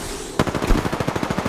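A rapid burst of automatic gunfire in the video game Apex Legends opens with a sharp crack and then rattles on in fast, evenly spaced shots, close and punchy.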